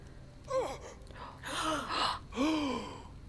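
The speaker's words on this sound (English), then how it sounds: "Wait, why are we gasping?" Several characters in Tiny Tina's Wonderlands gasp one after another, three or four close, breathy intakes with rising and falling pitch, quiet and free of speech.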